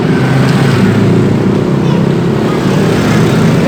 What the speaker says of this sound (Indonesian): ini banyak kendaraan lewat nih